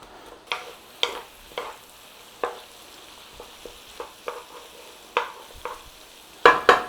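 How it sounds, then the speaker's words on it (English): Onions sauté gently in oil in a pan for Aussie curried sausages, a low steady sizzle broken by a dozen or so close, irregular scrapes and knocks of a spoon stirring, ending with a louder double clatter; no voices. "Nice and gently, a little bit of a saute on those onions."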